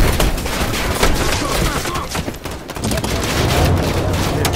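Modern Warfare realism-mode firefight: dense, chaotic bursts of gunfire and impacts crackling nonstop, loud and close, with voices mixed into the battle noise.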